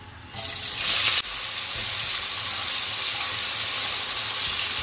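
Onion dropped into hot oil with spices for a thin red chicken curry, bursting into a loud, steady frying sizzle that flares sharply at first, then settles into a continuous close hiss.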